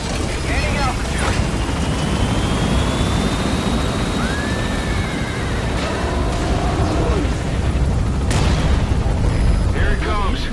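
Helicopter lifting off in the video game Metal Gear Solid V: The Phantom Pain, a loud continuous rotor and engine roar with rising whines and occasional booms.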